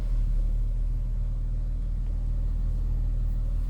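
A Chrysler 300 engine idles steadily just after starting, a loud, close, even low rumble that holds without variation and with no talking.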